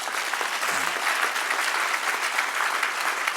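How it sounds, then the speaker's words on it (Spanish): Church congregation applauding during a sermon, a dense, steady burst of clapping at moderate distance that fills the whole stretch without speech. "Denle un aplauso al que reina"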